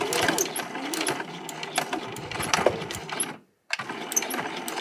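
A sewing machine back stitches a fabric napkin ring, a fast close rattling whir with needle clicks that stops briefly for a moment, then starts up again.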